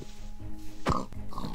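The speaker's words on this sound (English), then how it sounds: "let's kill a couple of these pigs on the way" Pigs oinking in Minecraft, a few short grunts around a louder burst, fairly near, with background game sounds and no talking.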